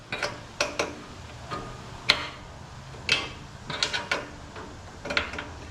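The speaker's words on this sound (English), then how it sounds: "hold the Allen wrench and twist the lock nut on" Allen wrench twisting a lock nut on a Vevor planer: a series of sharp metallic clicks and ratcheting ticks in an irregular rhythm, close and fairly quiet, with no talk.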